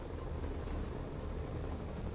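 Helicopter rotors in the Marvel's Spider-Man video game, a steady broadband whir and drone of engine and blades holding even and fairly close throughout, with no talking.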